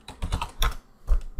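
A few quick bursts of computer keyboard typing, short clusters of key clicks separated by brief pauses, close and clear with no voices.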